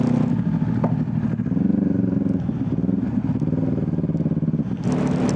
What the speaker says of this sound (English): that is a Hayabusa